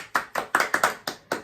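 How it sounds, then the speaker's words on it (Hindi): A few people clap for an interview guest, about seven sharp, separate, unhurried claps close by, thin and sparse rather than a full crowd. "तालियां"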